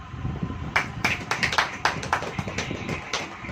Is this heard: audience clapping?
yes